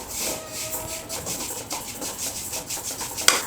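Sesame seeds dry-roasting in a hot kadai on a stove, stirred steadily, giving a continuous dry rubbing, rasping scrape with soft rattling pulses, close and moderately quiet with no talk.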